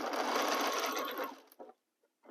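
A sewing machine stitching a quarter-inch seam on an Ohio Star quilt block: a steady, close run of rapid stitching lasting about a second and a half, stopping abruptly, followed by a few soft handling taps.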